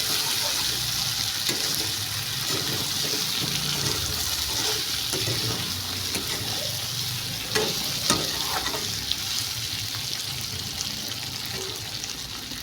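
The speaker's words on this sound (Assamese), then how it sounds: "এতিয়া ইয়াত দি দিম মই এতিয়া গৰম কৰি ৰখা পানীখিনি" Hot water is poured into a pot of fried meat, giving a steady broad sizzling, bubbling wash that continues for the whole stretch, with a few faint clinks of stirring and no talk.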